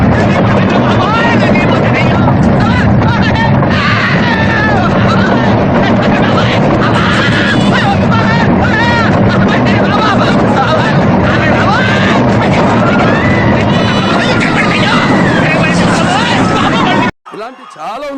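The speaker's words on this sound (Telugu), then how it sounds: "హైదరాబాద్లో అలా తిరుగుతూ ఎంజాయ్ చేద్దామని మా వాడితో బండి మీద బయటికి వెళ్తే మా వాడు బండి మాత్రం మామూలు నడపలేదు" A motorbike rides through busy Hyderabad traffic, its loud, continuous engine drone and wind roar mixing with honks and street noise, with voices talking over it until a sudden brief cutout near the end.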